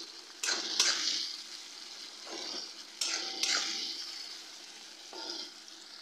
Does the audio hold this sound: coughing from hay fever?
no